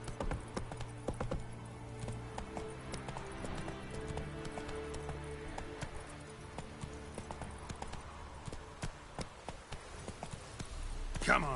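Roach the horse galloping in The Witcher 3, steady rhythmic hoofbeats close by at moderate level, with a person speaking briefly over them.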